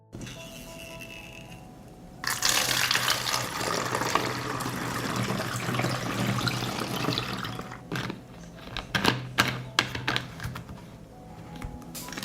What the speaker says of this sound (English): I pour the solution into the sprayer.